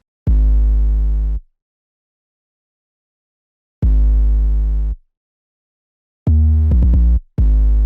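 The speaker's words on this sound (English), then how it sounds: "Next, I made this crazy 808 pattern." Three deep, sustained 808 bass notes from a hip-hop beat play alone, each held about a second with long gaps between, followed by a quicker pair of sliding notes near the end.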